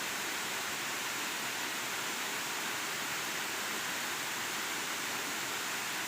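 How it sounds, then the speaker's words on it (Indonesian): Curug Nyandung waterfall in Kuningan, Indonesia, heard up close as a steady, dense roar of falling water that holds an even level throughout, with no voices. "Berapa indahkah air terjun ini"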